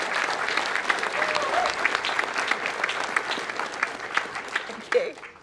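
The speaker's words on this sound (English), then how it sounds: "But we'll give you a massive round of applause" An audience at a British Skydiving awards event gives sustained applause for an award recipient, broad continuous clapping from a roomful of people, moderately loud, with a few voices underneath.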